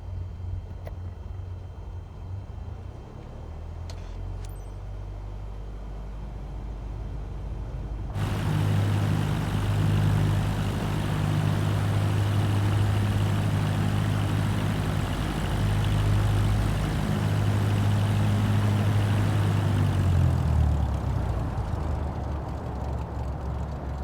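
A Cessna propeller plane taxiing in Microsoft Flight Simulator 2024, its engine idling quietly before a sudden jump to a loud steady drone that holds for several seconds and then eases back near the end.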